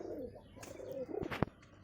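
Pigeons offered for sale coo softly close by in a few low, rolling calls, followed by short sharp chirps and clicks near the end.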